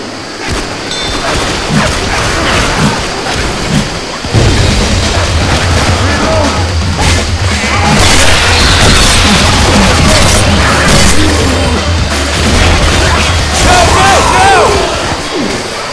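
An explosive barrel is shot and blows up in a video game, giving a sudden loud crash a few seconds in, followed by a sustained rumbling roar under busy game noise.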